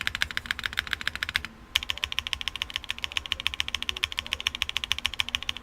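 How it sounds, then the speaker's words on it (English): Rapid, steady clacking of keys on a TKD PT.1 mechanical keyboard, close and crisp, with one brief pause near the start before the fast typing resumes. "Enter key sounds okay."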